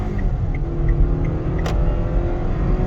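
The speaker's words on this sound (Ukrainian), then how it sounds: "Зараз спробуємо розгін від нуля до 100. Я роблю спорт режим." Cabin sound of a 2016 Kia Sorento 2.4 AWD accelerating from 0 to 100 in sport mode: a steady low engine and road rumble, with a few faint ticks and one brief higher click partway through.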